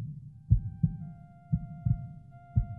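A heartbeat sound effect pulses in soft low double thumps, three beats in under three seconds, close and muffled over a faint sustained tone, with no voices.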